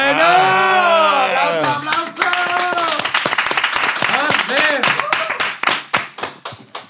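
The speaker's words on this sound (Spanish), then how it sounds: "¡Aplausos!" Audience clapping after a live song in a Spanish talk show, starting under a sung or shouted ending, then scattered claps that thin out near the end.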